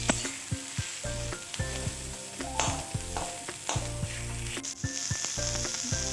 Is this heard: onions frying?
yes